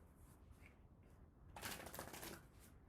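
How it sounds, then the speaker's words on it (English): A deck of tarot cards is shuffled close up at low volume, soft riffling and papery flicking building into a denser burst of card-on-card rustle partway through, with no one talking. "I'm doing the shuffling."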